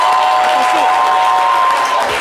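Studio audience at a live French-language television show claps and cheers in a dense, continuous burst, briefly and fairly loud.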